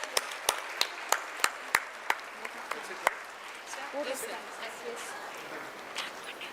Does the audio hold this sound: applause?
yes